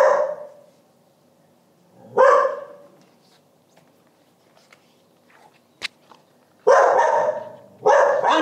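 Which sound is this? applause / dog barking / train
dog barking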